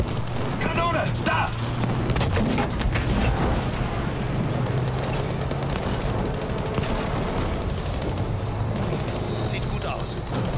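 Heavy booming tank cannon blasts and gunfire crash repeatedly over dense battle noise in Battlefield V, with German voices shouting among the explosions.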